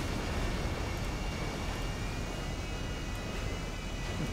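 Steady airplane engine drone in GTA 5, a continuous broad roar holding at an even level with no breaks and no voices.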